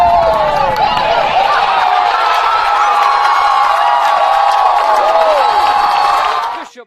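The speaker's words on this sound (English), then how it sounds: "We let you hear the crowd there, and it's a big stop on 3rd down" A high school football crowd at a Tippecanoe Valley versus Jimtown game roars and cheers loudly after a big third-down stop, with whoops and shouting sustained before fading at the end.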